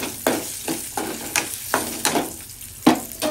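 A tempering for mango pulihora sizzles steadily in a pan on low heat, broken by repeated scraping stirs of a spoon at a fairly even pace, close up with no voices.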